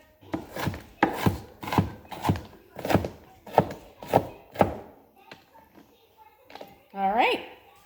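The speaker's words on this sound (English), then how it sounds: "We're just going to chop them up." A knife chops ingredients for a crustless quiche on a wooden cutting board: about eight firm, evenly spaced thunks, close and clear, followed by a few softer scrapes and a short burst of nearby talk at the end.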